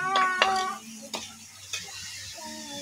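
Carrots and vegetables sizzling in a pan outdoors for pancit bihon, a soft frying hiss broken by a few sharp clinks of a utensil against the pan, with a brief hum of a voice at the start.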